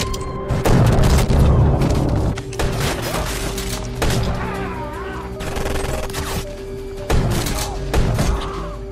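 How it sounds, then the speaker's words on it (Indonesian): Repeated heavy gunshot booms and sharp bangs ring out in bursts, loud and close, with a few shouted voices mixed into the chaos, in a film scene. "akibat mendengar suara tembakan, Maddie yang ketakutan pun refleks berteriak"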